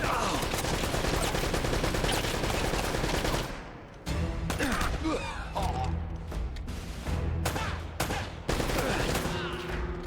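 Rapid bursts of gunfire in the video game Uncharted, dense and loud for the first few seconds, then scattered shots with brief gaps, under occasional talk.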